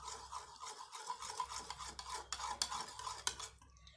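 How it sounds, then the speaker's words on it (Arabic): A spoon stirs honey into a homemade soy sauce substitute, making soft, rapid scraping and clinking against the bowl. The stirring is close and quiet and runs for a few seconds with no talking. "نحط معلقه عسل كمان ونقلب."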